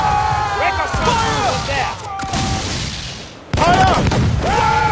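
Gunfire during a battle in the video game Assassin's Creed IV: Freedom Cry, a loud dense wash of shots and booms with a sharp surge near the end, mixed with game voices and music.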